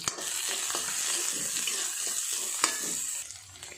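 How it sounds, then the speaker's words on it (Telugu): Chopped onions being stirred into a frying aloo capsicum curry in a pan: a steady, close sizzle with soft scraping stirs and a small clack near the end. "కట్ చేసుకున్న ఆనియన్ ముక్కలను కూడా ఉల్లిపాయ ముక్కలు కూడా వేసేసుకొని కలుపుకోవాలి"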